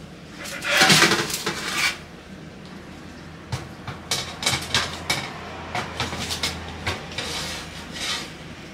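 A metal baking tray of kebab-topped fries slid back into a home oven, opening with a loud scraping clatter, followed by scattered clicks and knocks of the rack and door at close range.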